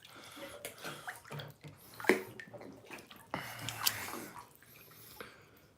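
Water sloshes and splashes in short irregular bursts as a sunburned man shifts around in a bathtub outdoors at sunset, with a few sharp drips and knocks, fairly close and moderately quiet.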